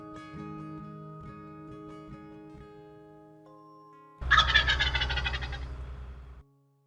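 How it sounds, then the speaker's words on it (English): A wild turkey lets out one loud, rattling gobble in a field at the edge of the woods. It comes after several seconds of quieter, steady tonal sound and ends abruptly. "there's turkeys everywhere"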